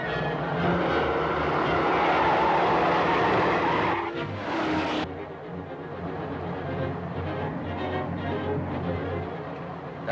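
Cars race in a chase with tires squealing, a loud skidding screech over roaring engines that cuts off sharply, leaving a steady motor drone.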